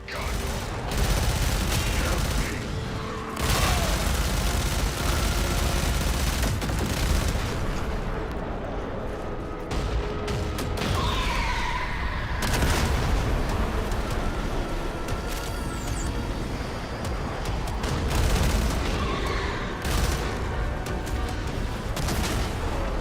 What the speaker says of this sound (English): Allies captured a Magmos cannon, and now it's shredding our rear echelon.